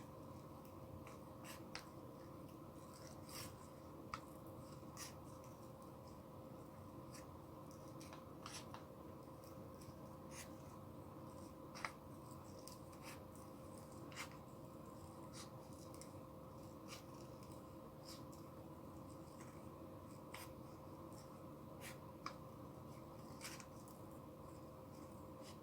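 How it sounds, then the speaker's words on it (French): Small scissors snip roughly around a little paper flower in a quiet room, giving faint, sparse clicks and short cuts spread irregularly over a steady low background hum. "Je vais découper cette petite fleur là"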